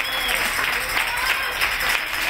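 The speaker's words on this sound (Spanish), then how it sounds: "para ellos también un aplauso les pido" Audience applauding for the leaders of a dance group and school at an Aragonese cultural centre event, a continuous wash of clapping heard from a distance with roomy, hissy texture.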